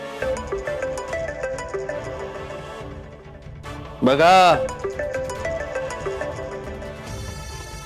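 A mobile phone ringtone chimes in a tonal burst near the middle of a scene from the Marathi TV serial Raja Rani Chi Ga Jodi, over background music and brief talk.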